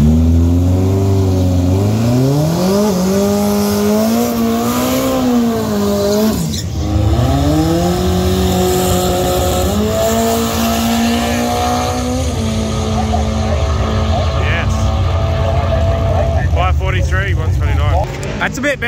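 A drag race vehicle at a Kenda 660 drag race series race day launches and roars down the strip, its engine revving through rising and shifting pitches, loud and close, with tire noise and voices heard faintly near the end.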